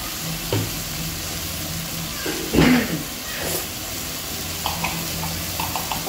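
Mushrooms frying in a pan while being stirred, a continuous close sizzle with scrapes and clatters from the stirring, one louder clatter partway through.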